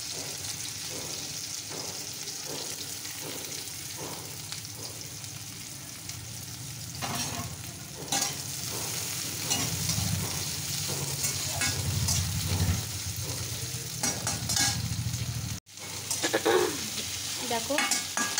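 Onions frying in hot oil with whole spices and black peppercorns for tarka, a loud close sizzle with rhythmic stirring scrapes, a brief cut near the end before the sizzling resumes.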